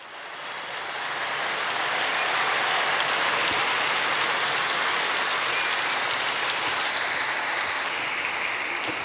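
Large crowd applauding steadily and loudly in an open square at a papal Angelus gathering, a dense continuous wash of clapping that swells in the first seconds and then holds without speech.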